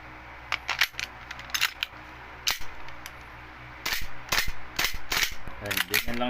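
An E&C Taran Tactical John Wick 3 airsoft pistol under repair fires a series of sharp, uneven pops at close range, some loud and some weak, with soft metallic handling clicks and brief talk between shots.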